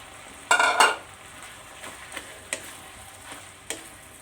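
Rat meat stir-fried with basil and makrut lime leaves in a pan, heard as soft scraping and clattering strokes, one louder burst early on, then sparse ticks of the utensil against the pan with no talking.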